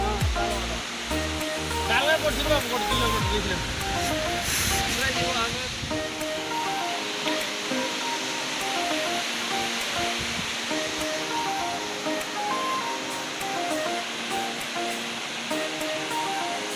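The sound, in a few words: Bhairaghumar waterfall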